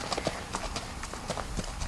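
Horse hooves clip-clopping in a barn: a quick, uneven series of hoof knocks, near and moderately loud, over steady background noise and a faint murmur of voices.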